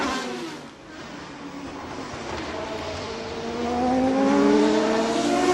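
Race cars at the start of the 24 Hours of Le Mans, 2005, roar past as a field, engines revving and rising in pitch and loudness as they accelerate away, a dense continuous drone with crowd noise beneath.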